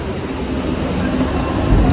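Steady low rumble of a moving Mumbai local train heard from inside a carriage, continuous and fairly loud throughout.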